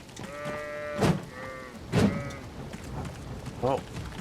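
Sheep in the video game Elden Ring give a few short, moderately loud bleats, spaced apart, alongside brief thumps.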